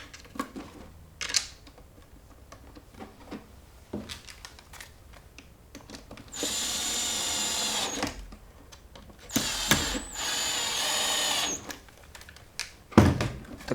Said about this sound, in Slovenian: In privijemo vijake.